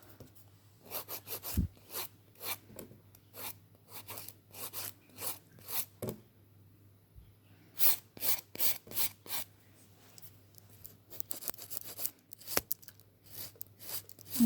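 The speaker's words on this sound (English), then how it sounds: "I'm just literally filing all the top coat off." A nail file rasping top coat off fingernails during a nail infill, in short quick rubbing bursts, repeated in clustered runs with brief pauses between them, close and fairly quiet with no voices.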